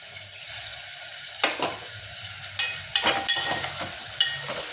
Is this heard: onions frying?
yes